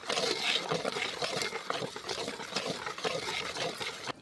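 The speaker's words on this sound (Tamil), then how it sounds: "கொஞ்சம் கொஞ்சமாக தண்ணி ஊற்றி கெட்டி பதம் இல்லாமல் கரைச்சிக்கணுங்க" Water trickles and splashes in small pours into a batter of gram flour and rice flour, quiet, close liquid sounds with soft stirring-like pulses continuing throughout.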